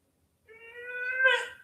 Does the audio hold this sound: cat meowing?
yes